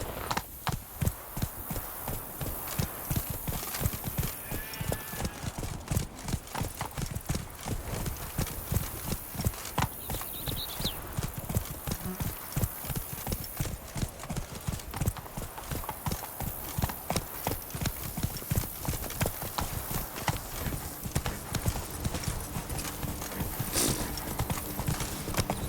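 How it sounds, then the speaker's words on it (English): Horse hooves clip-clop in a steady galloping rhythm throughout the scene in the video game The Witcher 3, up close and continuous, with a brief whinny and ambient game sound beneath. "Even a horse drops if you ride it with a constant gallop."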